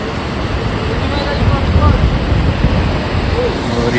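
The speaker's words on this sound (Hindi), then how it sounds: "यह है सरस्वती नदी" The Saraswati river near Mana village in the Himalayas rushes as a steady, dense roar of flowing water, mixed with wind buffeting the microphone, continuous throughout with no clear voices.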